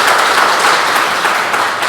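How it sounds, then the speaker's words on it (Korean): A church congregation giving a welcoming round of applause during a Sunday service, a loud, full burst of many hands clapping together, dense and continuous for two seconds with no voices. "우리 환영의 박수 한번."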